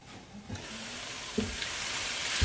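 Vegetables cook in a covered pan, giving a steady soft sizzle that builds slightly over a few seconds, with a couple of light clinks from the lid or utensil.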